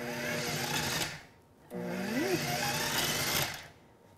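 A food processor pulses butter and flour in two bursts of whirring motor, each about a second or more long, with a short pause between them and no talking.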